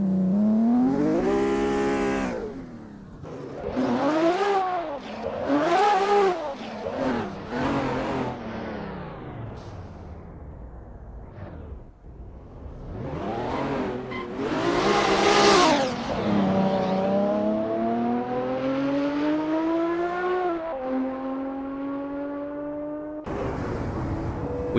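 Racing sim cars warming up on the Nurburgring GP track, engines sweeping up and down through sharp revs and gear shifts, several cars whooshing past close by, loud and without voices.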